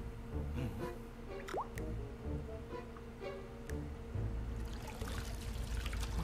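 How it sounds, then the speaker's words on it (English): Water drips drop by drop, scattered distinct plinks and small splashes over a low murky background, fairly faint, with a wetter pouring texture building toward the end. "Ah, yes, that's how water comes down, drop by drop."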